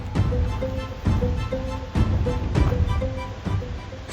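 Seljalandsfoss waterfall in South Iceland gives a close, steady broadband rushing roar with regular gusting surges roughly every second.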